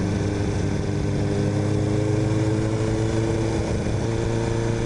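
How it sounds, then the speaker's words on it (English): Loud Kawasaki motorcycle exhaust runs steadily up close, a continuous deep, buzzing drone with constant firing and no pauses, with no talking. "This is maybe the loudest bike I have ever ridden."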